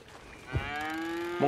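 A cow moos in the video game Red Dead Redemption 2, a short grunt followed by a long, loud, drawn-out call with a rising second bellow at the end, heard alone and close.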